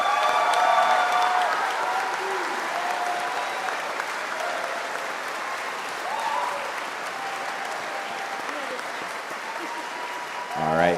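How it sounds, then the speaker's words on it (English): Sustained applause from a large crowd at a high school graduation ceremony, dense and even for about ten seconds, with cheers and voices mixed into the clapping. "let's give them a round of applause"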